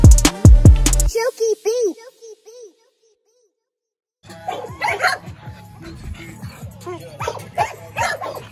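A gamebred bulldog in a kennel yard gives a few loud, sharp barks up close, then high whines and yips. After a brief silence, noisy background with people talking follows.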